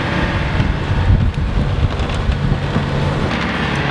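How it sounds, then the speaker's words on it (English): Strong wind of about 20 knots roaring across a sailboat at sea during a storm, loud buffeting gusts rushing against the microphone in a continuous blast. "some storm clouds covered the whole sky and we had 20 knots of wind blowing against us"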